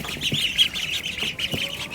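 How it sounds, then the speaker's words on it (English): Khaki Campbell ducklings chirp in quick, high peeps, a busy overlapping chorus close by with a few faint knocks underneath. "So there are more of the Khaki Campbells, if you can hear me, from over all the chirp"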